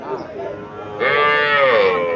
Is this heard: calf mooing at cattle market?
yes